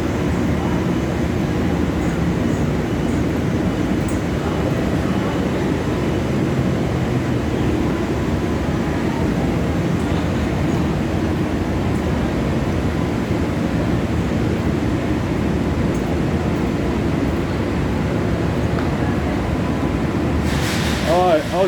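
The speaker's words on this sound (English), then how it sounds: "here's the train to Grand Central" A subway train bound for Grand Central in New York rumbles into the station platform, a low, steady roar of wheels and cars that builds and holds, with a faint squeal near the end.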